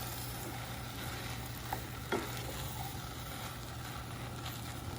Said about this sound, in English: the key is you want to kind of stir it